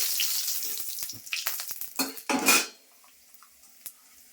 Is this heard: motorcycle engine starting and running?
no